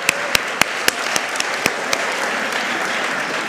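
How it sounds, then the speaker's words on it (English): An audience at a University of Zurich public event claps steadily for several seconds, a few sharp individual claps standing out near the start before the applause settles into an even wash. "A big applause for Donna Leon."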